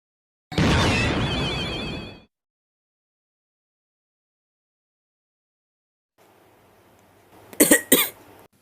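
Harsh cough from an animated character, a loud burst of about a second and a half, followed after a silence by softer rustling and two sharp coughing bursts near the end.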